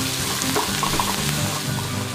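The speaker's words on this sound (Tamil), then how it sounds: "இதை நல்லா ப்ரௌன் கலராக ஃப்ரை பண்ணிக்கோங்க." Chopped onions frying in a pan for paneer fried rice, a steady hiss and sizzle with light scraping of stirring, moderately loud and continuous without talk.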